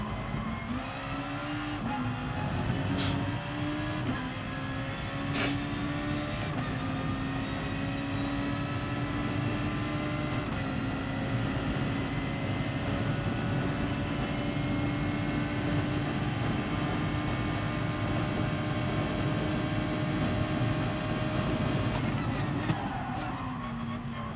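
Honda NSX race car in the GT Sport video game, its engine droning steadily and loudly at high revs through fast corners, with brief tonal shifts as gears change and a drop-off near the end.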